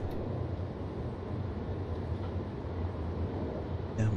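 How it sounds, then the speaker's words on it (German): A DB class 423 S-Bahn train approaching in a Train Simulator game, a steady low rumbling roll of wheels and motors, continuous and fairly quiet. "Und hier kommt uns die Baureihe 423 entgegen."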